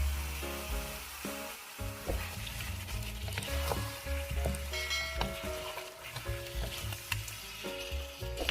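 Chicken liver frying in a pan with aromatic ingredients, a steady close sizzle with stirring clatter and a few metallic scrapes, while music plays softly in the background.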